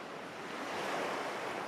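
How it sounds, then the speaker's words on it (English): Ocean waves surging in a steady, full wash of surf with wind, continuous and moderately loud, no voices. "Enjoy the ever-repeating rhythm of the waves."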